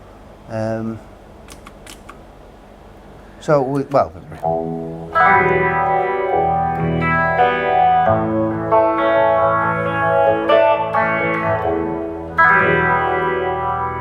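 An electric guitar dialed to 1970s-style tones plays sustained, chorus-drenched notes with echo and light grit after a few brief noises and knocks at the start.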